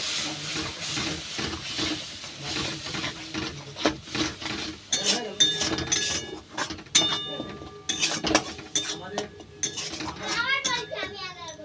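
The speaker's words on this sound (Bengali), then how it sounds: "এইবার সমস্ত মশলাগুলো ভালো করে কষিয়ে নেব।" Spices for street-style chatpati being stirred and fried in a pan with a splash of water, with scraping and clinking of a spoon against the pan through most of the stretch and a voice in the background.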